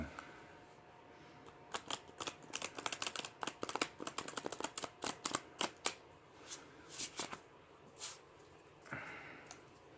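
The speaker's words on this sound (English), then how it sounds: "I'll just shuffle them right quick" A tarot deck is riffled and shuffled by hand up close, with quick bursts of soft papery flicks and slaps that then slow into a few scattered snaps, all quiet and without talk.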